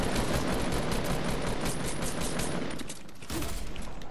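Rapid, dense automatic gunfire in a multiplayer squad shooter game rattles loudly and continuously for several seconds, pausing briefly before another burst.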